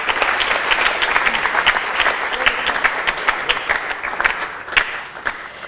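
An audience claps in dense, sustained applause at an awards ceremony, steady and lively for several seconds before gradually thinning out toward the end.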